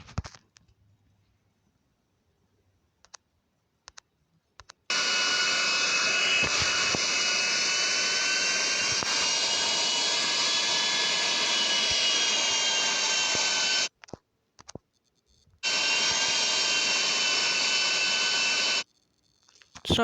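A jet airliner's engines roar steadily as the plane taxis toward the runway in GTA V, a loud sustained whine that cuts out briefly and returns, with no talk over it.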